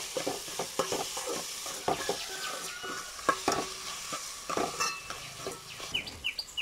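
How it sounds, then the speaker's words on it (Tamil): Onions and tomatoes sautéing in a pan, a soft sizzle punctuated by frequent sharp spatula taps and scrapes, close by, with faint bird chirps in the background and no talking. "வெங்காயம் தக்காளியும் இன்னும் நல்லா வதக்கிக்கலாம்."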